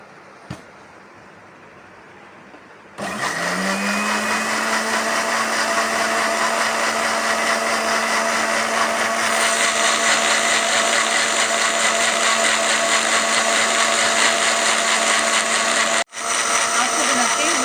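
A blender grinds mint margarita ingredients, including lemon juice and black salt, starting after a quiet moment and running as a loud, steady whir with one brief stop near the end before resuming.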